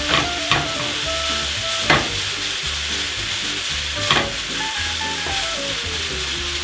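Pork fried rice sizzling in sesame oil while being stirred, a steady close frying hiss with a few sharp scrapes of a utensil against the pan and soft music playing underneath.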